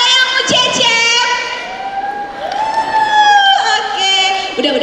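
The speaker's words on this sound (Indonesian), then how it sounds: "Tepuk tangannya mana dong buat The Cecep" Loud cheering and whooping from a young audience at a children's comedy talk show as a comedian is introduced, voices shouting together with faint clapping mixed in.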